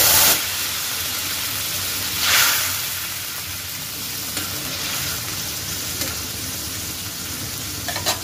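Poma river fish fry in hot oil with cumin for a Bengali tel jhol, giving a steady close sizzle and crackle throughout with a brief louder hiss burst early on and a few small pops.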